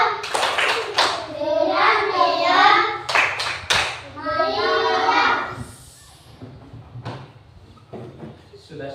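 A primary school class performs a rhythmic clapping chant, children's voices rising and falling in unison over sharp, evenly spaced hand claps, then fading to quieter classroom murmur.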